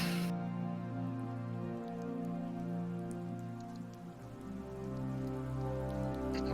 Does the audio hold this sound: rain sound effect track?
yes